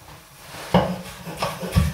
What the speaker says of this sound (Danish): Mine hvide asparges skal jeg også lige hakke lidt ud i mindre stykker.